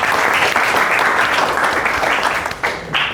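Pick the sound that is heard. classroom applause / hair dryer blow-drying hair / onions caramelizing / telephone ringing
classroom applause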